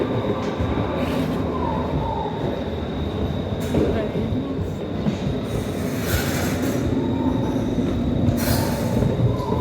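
A toy-style train at a lakeside park rumbles along with rhythmic wheel clatter, a steady metallic whine and bursts of squealing, loud and close, with voices of people talking beneath it.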